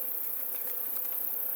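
Honey bees fly around a beehive in a yard, their soft, continuous buzzing hum filling the air at a low, even level.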